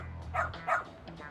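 A dog barks in the video game Lost Judgment, giving two short barks about a third of a second apart over a low steady game background hum, then quieter whimpering sounds.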